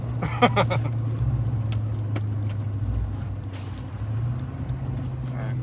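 A 3/4 ton pickup truck towing a trailer drives along with a low, steady engine hum from inside the cab, punctuated by brief rattles and clicks.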